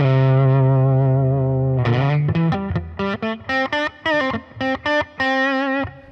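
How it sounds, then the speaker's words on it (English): A distorted electric guitar through a distortion model on a Line 6 Pod Go, a sustained saturated chord followed by a run of choppy staccato distorted notes, loud and close. "I just felt like these distortion tones were not for me."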